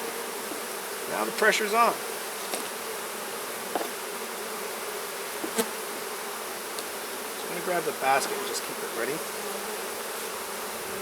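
Honeybees buzz around an open hive frame during a mite count inspection, a thin steady drone with several louder passes close by. A person talks over the buzzing.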